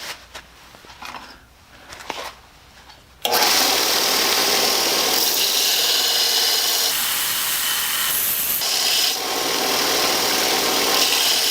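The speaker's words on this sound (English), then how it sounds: "Kick on the belt sander." Belt sander in a workshop grinding elevator bolts, starting abruptly after a few seconds of faint background noise, then a loud continuous rasping whine that holds steady with a brief dip near the end.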